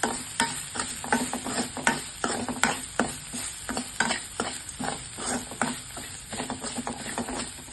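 Coarsely ground radish masala is stir-fried in a pan, giving a quiet, continuous sizzle broken by regular scraping strokes of a spatula against the metal, steady and close throughout.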